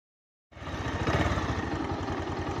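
A 2011 Bajaj Pulsar 180 motorcycle engine starts up after a brief silence and keeps running with a steady, throbbing mid-pitched rumble, loud and close.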